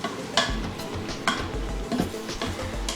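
Pork loin roast is stirred in a pressure cooker, with a spoon scraping and knocking against the pot in irregular strokes over a soft sizzle. Nobody talks.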